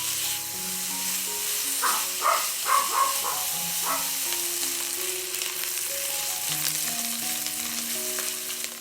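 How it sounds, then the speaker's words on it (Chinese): Pork belly pieces searing in leftover oil in a pan after fried shallots are removed, a steady close sizzle and hiss with a cluster of sharper spits and stirring scrapes early on. "把五花肉放进来， 煎成焦焦的。"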